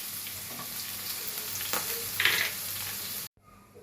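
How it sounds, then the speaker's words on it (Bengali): Onions and green chillies fry in oil in a pan for a fish curry, making a steady close sizzle with occasional stirring scrapes before it cuts off abruptly. No one talks. "এবার আমি পেঁয়াজটা একটু লাল লাল করে ভেজে নেব।"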